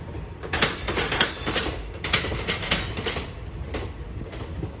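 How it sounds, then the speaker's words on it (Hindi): The Jaipur Bathinda Express (14734) rolls over a diamond rail crossing, its wheels hammering out a series of sharp clickety-clack bangs over a steady rumble, moderately distant. "डायमंड क्रॉसिंग की आवाज़ सुनिए भाई।"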